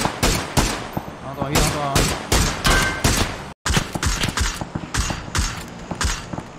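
Rapid bursts of automatic gunfire and single shots in a shooter video game, loud and close, with players talking over the shooting and a brief dropout midway.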